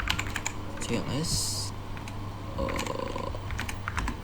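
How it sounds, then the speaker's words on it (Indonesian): Keys on a computer keyboard are tapped in short bursts to type a command into a command prompt, faint close clicks over a low background hum, with a brief hiss partway through. "selanjutnya kita ketikkan cls"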